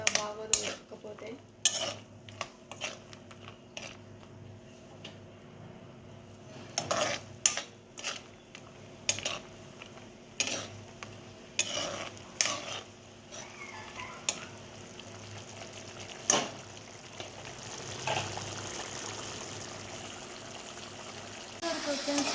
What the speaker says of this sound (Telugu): ఉప్పు అలాగే పసుపు వేసినాక చింతపండుని బాగా ఉడకనివ్వండి